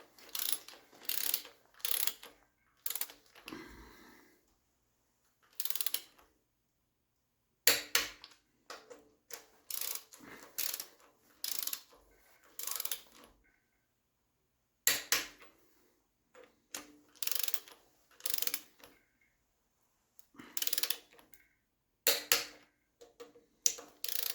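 A torque wrench set to 60 pounds tightens the cylinder head bolts on a 1972 Triumph TR6 engine, producing repeated close ratcheting clicks in short bursts separated by pauses, with no talk.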